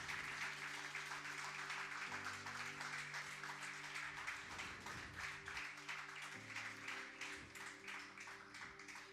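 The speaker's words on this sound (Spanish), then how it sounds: "Denle un aplauso al Señor." A church congregation applauding during a Spanish-language sermon: steady, sustained clapping from many hands, fairly faint and distant, over a low held musical drone that shifts in pitch.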